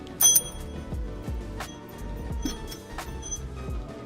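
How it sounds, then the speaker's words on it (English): A bicycle bell chimes once in Pokémon FireRed/LeafGreen on Route 2, a short bright ding over the game's steady background music. "I hit the bell. That's my fucking bell."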